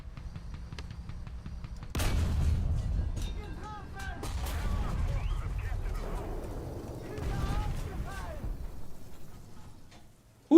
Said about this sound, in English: the heck was shooting at me from the left?